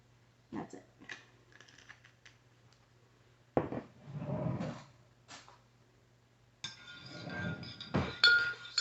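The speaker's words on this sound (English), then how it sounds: "Stir that around a little bit." A spoon stirs a milk mixture in a glass, clinking brightly against the sides in several close bursts separated by short pauses.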